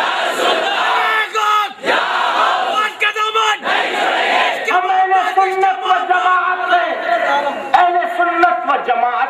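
A large crowd at an Islamic religious gathering in Hyderabad, India chants slogans together in loud, sustained unison, voices swelling and dipping in repeated waves, close and dense throughout.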